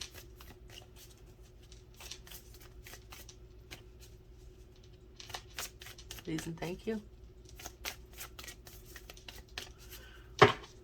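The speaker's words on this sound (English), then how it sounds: "I'm gonna shuffle them and try one more time" Oracle cards shuffled by hand in a quiet room, giving a string of soft riffling flicks and brief papery bursts, with a louder snap near the end and a short spoken phrase in the middle.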